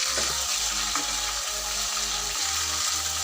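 Onions fry in a pan for chicken malai handi, a steady close sizzle and hiss with a few faint stirring clicks and no voices.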